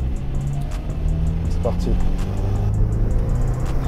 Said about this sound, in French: On va faire un petit départ arrêté. 0 à 100 en 6 secondes normalement.